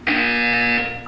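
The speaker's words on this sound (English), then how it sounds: "You will hear a buzzer." A loud, steady electronic buzzer from the Portal 2 video game sounds once for about a second, harsh and sustained, alone with no talk.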